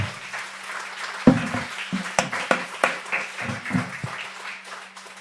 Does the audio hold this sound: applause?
yes